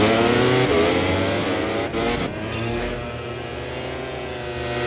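Racing motorcycles in MotoGP 24 scream past with high, revving engines, one loud pass fading into a sustained mid-pitched drone as the bikes carry on.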